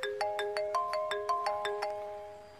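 A mobile phone ringtone plays for an incoming call from an uncle, a bright repeating chime pattern of about ten quick tonal notes, clear and close with no voices over it.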